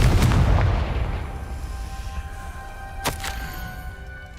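A Confringo blasting spell explodes in Hogwarts Legacy: a loud booming burst up front that fades into a rumbling tail, then a second sharp crack and a smaller pop shortly after, with no talking.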